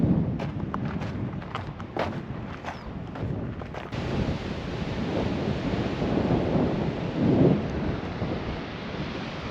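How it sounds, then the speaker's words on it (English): Strong wind buffets a cliff-top campsite on the Nullarbor, a steady loud roar with gusts and microphone rumble, a few sharp knocks early on, no voices. "Still really quite windy."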